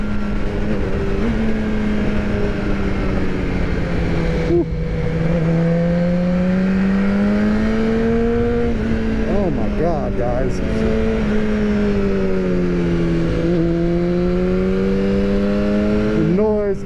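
An Aprilia RSV4 1100 Factory motorcycle engine drones steadily while riding, pitch rising and falling with throttle changes and quick gearshifts, loud and continuous with wind noise throughout.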